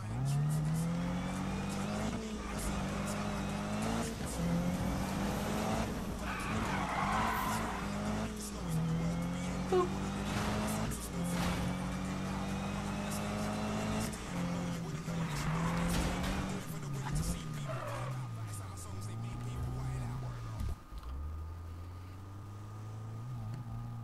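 Need for Speed video game car drifting, with engine roar and long tire skids sweeping through the clip alongside game music, while a voice talks over the action intermittently.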